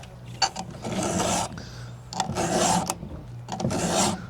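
A hand file rasps across the rakers of a chainsaw chain in repeated strokes, three to four bursts of steady scraping separated by short pauses, close and fairly loud with no talking.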